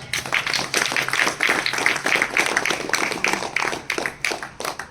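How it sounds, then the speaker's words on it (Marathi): A group at a yoga centre's International Yoga Day gathering claps together in a brisk, dense round of applause that holds steady for several seconds and fades slightly at the end. "टाळ्या."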